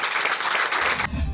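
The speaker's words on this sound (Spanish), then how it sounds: "Con un emotivo aplauso propiciado por su mamá" Applause at a funeral farewell for singer Jano Fuentes, a dense crowd clapping steadily and close for about a second before it cuts off abruptly to a low rumble.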